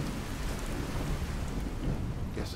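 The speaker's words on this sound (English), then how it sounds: "immediate thunderstorm upon loading in" A thunderstorm in the video game Fallout 4: steady heavy rain with low rolling thunder rumbling underneath, loud and continuous, no talking.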